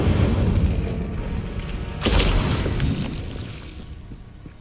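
An Incendio fire spell goes off in Hogwarts Legacy, a loud whooshing fiery burst with a booming onset that swells again midway and then fades, with game ambience underneath and no talking.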